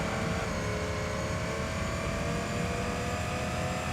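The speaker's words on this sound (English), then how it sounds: "When I have to brake heavy, just listen to the car." A race car in Gran Turismo 3 drones at a steady, loud, unbroken engine roar with broad noise throughout; no distinct braking sound stands out, and nobody speaks.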